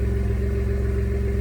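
A 2017 Ford F150 pickup's 2.7L EcoBoost V6 idles through its exhaust with a steady, even low rumble and a smooth tonal hum, close by and unbroken, with no voices.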